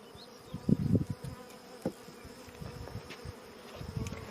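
Honey bees buzzing around an open box from a cutout colony during a hive inspection, a faint, steady drone with a few louder passes close by.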